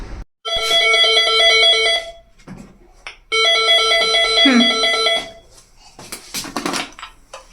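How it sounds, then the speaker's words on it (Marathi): An apartment intercom doorbell ringing upstairs after a visitor presses the entry button, two loud, steady electronic chime bursts, each about one and a half seconds long, with brief voices and rustling afterward. "इथून जर तुम्ही प्रेस केलं बटन तर वरती तुम्हाला रिंग येते बेल येते"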